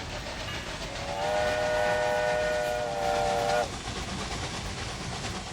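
Train whistle from the railway-building video game Railway Empire 2, a single sustained tonal blast lasting a couple of seconds over a steady rumbling rail bed, then cutting off abruptly.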